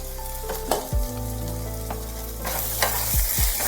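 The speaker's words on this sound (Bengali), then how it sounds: "বেশ একটু ভাজা ভাজা হয়ে গেছে।" Chicken pieces for a chicken salad fry on a low gas flame in a pan, giving a steady, close sizzle with a low hum underneath and a few scraping stirs, with no talking.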